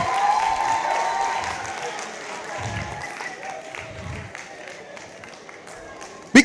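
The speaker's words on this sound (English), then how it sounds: "Clap for them and make noise for them." A comedy show audience claps and cheers in a sustained, dense wave of applause that carries across the whole stretch, with crowd voices mixed in.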